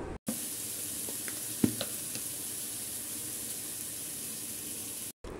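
Washed pulao rice fries in a pan with a steady sizzle, broken by a few sharp clinks and scrapes of stirring, close and without talk, framed by brief silence at each end.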